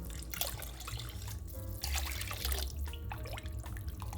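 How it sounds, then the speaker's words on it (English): About eight cups of water pour steadily into a soup pot over crushed tomatoes, splashing and trickling close by with shifting gurgles as it fills; no one speaks. "I'm gonna add probably 8 cups of water into this."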